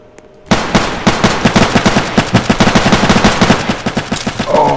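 Rapid automatic gunfire from the Roblox shooter game Vanguard, a loud sustained burst of closely spaced shots that starts abruptly after a brief quiet moment and keeps a steady rattling rhythm.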